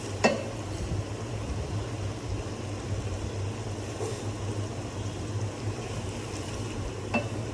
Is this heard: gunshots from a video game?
no